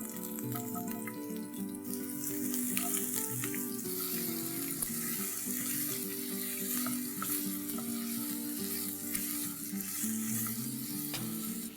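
Sliced onion sizzling steadily in hot oil with a bay leaf, cinnamon sticks and cloves, a continuous bright frying hiss with occasional stirring clatter, close and without talk.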